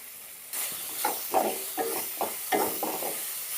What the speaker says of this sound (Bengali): ভালো করে নাড়াচাড়া করে একটু লাল লাল মতন করে ভেজে নিতে হবে